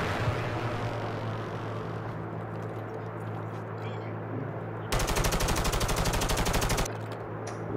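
Rapid automatic gunfire in Call of Duty Warzone gameplay, a dense burst of evenly spaced shots lasting about two seconds over a constant background rumble.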